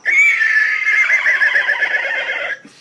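A person's voice imitates a horse neighing: one loud, close whinny that holds steady and quavers for about two and a half seconds, then breaks off.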